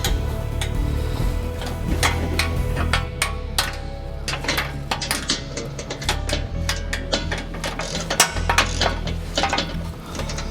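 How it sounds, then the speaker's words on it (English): Ratchet with a 13 mm socket tightening bolts on a grill guard for a Cat utility vehicle, giving repeated rapid clicking bursts over a steady low background hum, fairly close and moderately loud throughout. "Then, using a wrench, 13 millimeters, and a ratchet,"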